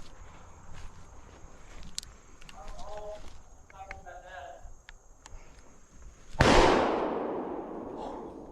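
A shotgun blast during a squirrel hunt, one sharp loud report near the end that decays into a long rolling echo, after quiet woodland ambience with faint soft talking.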